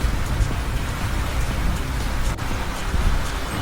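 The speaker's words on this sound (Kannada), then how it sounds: "ಜೋರು ಮಳೆ." A heavy downpour hammers down around a hillside spot with an iron structure, a thick continuous roar of rain striking surfaces, loud and close with no pauses and no talk.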